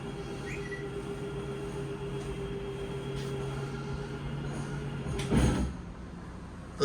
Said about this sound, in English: The first one runs the off door side slide room in and out.